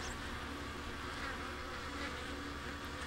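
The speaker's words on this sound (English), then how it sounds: "I hear bees." Bees buzz in a steady, dense drone that fills the whole stretch at an even level, with no voices over it.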